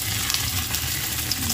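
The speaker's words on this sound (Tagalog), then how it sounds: "magpiprito din po tayo ng ating mga daing" Dried fish (daing) frying in a pan gives a steady, soft sizzle with faint crackling throughout, fairly quiet and with no talking over it.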